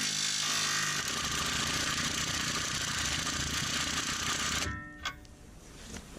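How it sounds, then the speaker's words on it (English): Impact wrench hammering continuously on a trailing arm bolt of a Jaguar X-type, loud and close for several seconds before stopping abruptly, followed by a couple of faint clinks. "can transfer that energy from the impact wrench over to the bolt much more efficiently"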